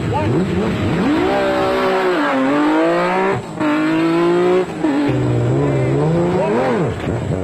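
Off-road race vehicles roar at the start of the Nissan Dealers 400 in South Africa, engines revving and rising in pitch up close, with a narrator talking over the din.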